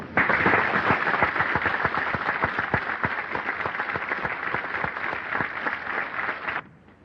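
Sustained audience applause fills the hall after a public talk at a Jehovah's Witnesses meeting, dense, steady and fairly loud for about six and a half seconds before cutting off abruptly.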